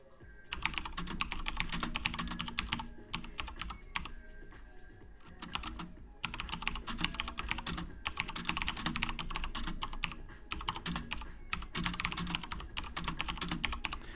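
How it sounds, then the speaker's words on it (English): Typing on a computer keyboard to write a chat message, a close run of quick, clicky keystrokes in bursts, with short pauses between phrases. "So you can see what I'm typing in the chat."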